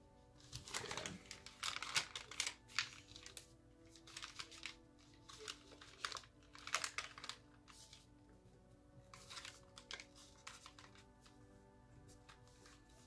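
Paper being creased and folded by hand for an origami Santa crane, a run of soft crinkling rustles and light taps coming in irregular bursts close to the mic, with quiet pauses between them.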